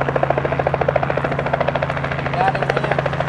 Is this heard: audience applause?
no